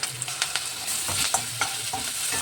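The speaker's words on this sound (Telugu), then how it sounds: "మసాలా ఫ్రై కానికి ఉల్లిపాయ ముక్కలు వేసుకుందాము." Onion pieces frying in oil for a bhindi masala, a steady close sizzle with the scrape of a spoon stirring the pan in short bursts throughout.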